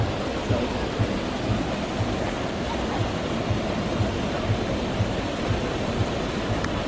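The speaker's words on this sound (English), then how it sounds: "Look at this little waterfall here." A small waterfall at King's Cross in London pours with a steady, broadband rushing wash, continuous and close, with a faint regular low pulse beneath and no talk.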